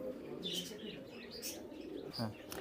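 Farm pigeons of the Saharanpuri Kalshira breed, held for sale, give a few brief chirps and a short coo amid low background murmur, with faint voices nearby.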